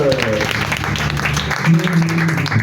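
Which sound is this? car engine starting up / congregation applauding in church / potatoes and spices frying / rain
congregation applauding in church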